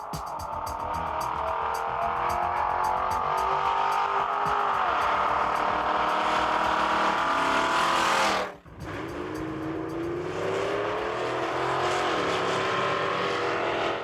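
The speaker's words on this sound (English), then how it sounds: "It's for drag racing." Drag racing cars roar at St. Thomas Dragway amid farmland in southwestern Ontario, with a loud, sustained engine howl climbing in pitch, a sharp cut near the middle, then another rising run.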